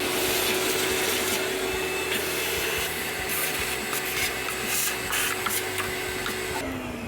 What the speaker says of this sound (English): I'm gonna take my vacuum, my shop vac, and I'm trying to suck up some of this leftover debris